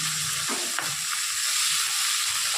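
Chilli chicken stirred in a hot pan, a constant loud sizzle with scraping, rattling strokes of the spatula at the start, close up and without talking.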